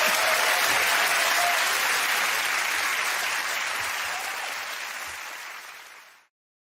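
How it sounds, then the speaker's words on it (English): A studio audience at a comedy panel show gives a round of applause, a dense roar of clapping from many people that holds steady, then fades out and stops abruptly. "OK, give that round of applause to Ed,"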